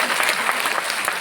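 An audience at a village political gathering applauds steadily throughout, a dense and fairly loud patter of many hands with no gaps.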